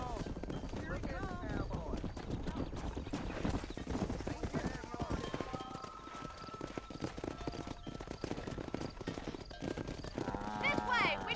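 Horse hooves clip-clop steadily through the Red Dead Redemption game as livestock is driven down a road, beneath shouted voices, occasional whinnies and a continuous game soundtrack.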